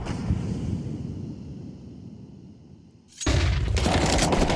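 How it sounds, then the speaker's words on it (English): Counter-Strike match on the Anubis map, with a flashbang grenade going off: muffled gunfire and ambient noise give way to a sudden loud burst, followed by a sustained bright wash of noise. "Now that is a flashbang."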